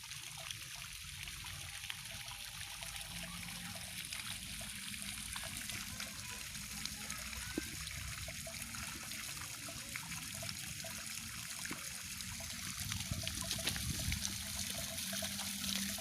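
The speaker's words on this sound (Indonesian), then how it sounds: "Ini airnya gemericik ya, jadi ditimpain di undang-undangan pertama, jadi airnya nyebar" Water trickles and splashes steadily into a tiered ornamental fish pond holding bettas and koi, a continuous close gurgle and patter with no talk.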